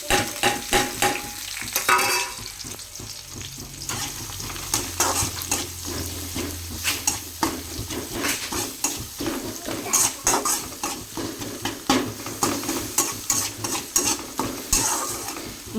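Masala sizzling with browned onions in a pan for a ridge gourd curry, stirred with a spoon that scrapes and clinks rhythmically against the metal, close and steady, no talking.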